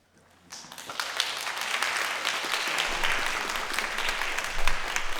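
Audience applause after a children's storytelling performance at a Korean story-reciting contest, starting abruptly after a brief quiet moment and building into a steady wash of many hands clapping, fairly loud and sustained, with a low hum underneath.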